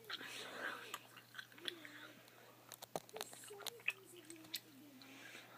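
Chewy Gushers fruit snacks being bitten and chewed up close, with soft squishy bites and smacking in an irregular rhythm, interrupted by a few quiet voiced sounds and a low hum beneath.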